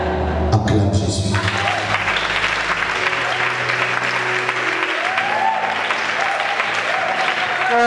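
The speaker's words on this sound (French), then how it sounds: "Acclame Jésus" A church congregation claps and cheers in sustained applause, loud and continuous throughout, with voices mixed into the crowd noise.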